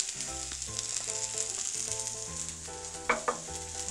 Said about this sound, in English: So I'm just gonna add my onions and garlic